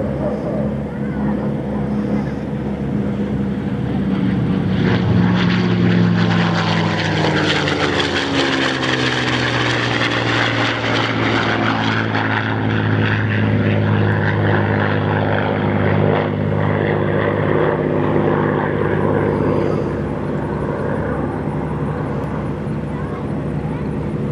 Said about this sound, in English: get a nice banana-shaped pass this time as he comes by from the right